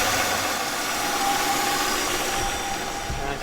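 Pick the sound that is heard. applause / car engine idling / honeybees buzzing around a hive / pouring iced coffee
car engine idling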